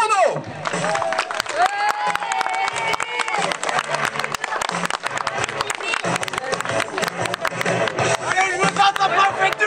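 Crowd at a wrestling show applauding and cheering a biker wrestler's entrance, sustained loud clapping and hubbub throughout with music-like tones mixed in.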